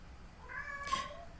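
A domestic cat in heat gives a single drawn-out meow that rises and fades over about a second, fairly close and moderately loud against a quiet room with no talking.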